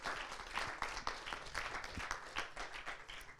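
An audience claps for a finalist at a regional final of the MT180 thesis-presentation contest: dense, sustained applause that holds steady for the whole stretch with no voices over it.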